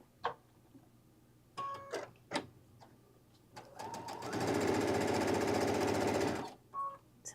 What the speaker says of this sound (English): So I'm just lining up the edge and then speed sewing.